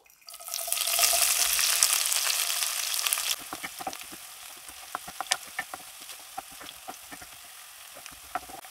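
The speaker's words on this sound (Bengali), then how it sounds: "পেঁয়াজ আর কাঁচামরিচটা হালকা ভেজে নিয়েছি।" Loud sizzling as onion and green chilli hit hot oil, settling after a few seconds into quieter crackles and spattering pops.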